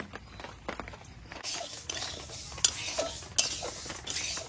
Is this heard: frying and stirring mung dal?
yes